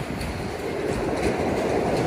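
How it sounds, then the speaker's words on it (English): A train runs on tracks beside the Benjamin Franklin Bridge in Philadelphia, a steady broadband rumble mixed with wind noise that stays loud and even throughout, with no clear separate clacks. "Oh, we got the train over there."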